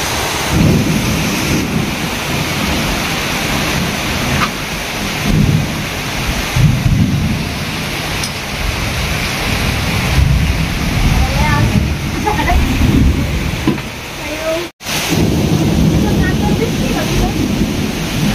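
Loud, steady heavy rain roars with rolling thunder during an unseasonal cyclone storm in Sinnar, the downpour continuous and close throughout, with a brief dropout near the end.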